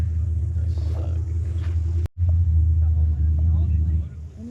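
An LS6 V8 engine idles at a drag racing meet, giving a loud, close, steady low rumble with a brief dropout midway, while voices can be heard nearby.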